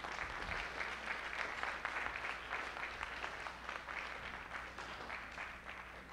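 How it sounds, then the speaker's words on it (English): Faint, fairly distant applause from an audience of parents at a student travel graduation, steady clapping that tapers off slightly at the end. "Let's give them a warm round of applause."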